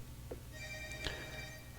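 A cell phone rings faintly in a large room, its brief electronic ringtone beeps standing out against a low steady background hum.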